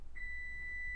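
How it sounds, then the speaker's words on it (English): A single steady electronic beep sounds for most of a second, thin and clear, over a quiet indoor background. "something beeping?"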